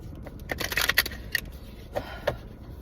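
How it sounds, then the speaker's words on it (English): Quick papery riffles and flicks of tarot cards being shuffled close by, in short bursts with brief pauses, fairly quiet. "I'm shuffling, and that's what you hear."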